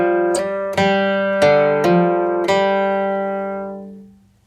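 Five plucked acoustic guitar notes struck in a steady, unhurried sequence forming a country bluegrass lick in G, each ringing and sustaining before the last decays, played alone with no talking.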